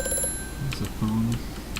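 A telephone rings inside the horror video game Amnesia: A Machine for Pigs, a brief two-part ring that stands out against a quiet, eerie game background.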